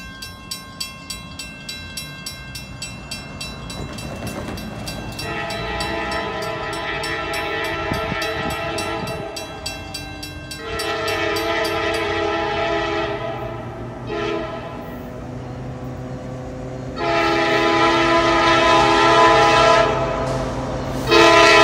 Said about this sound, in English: We got another train coming.